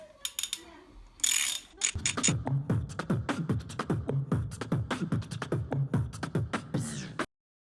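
Clutch spring bolts being loosened with a ratchet on a Yamaha R1 motorcycle during clutch replacement: a fast run of close, repeated ratcheting clicks in an even rhythm, with a brief hiss and some tool handling beforehand.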